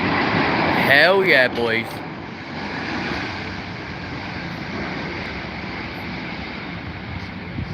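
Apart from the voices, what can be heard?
airliner's Rolls-Royce Trent engines spooling up at Heathrow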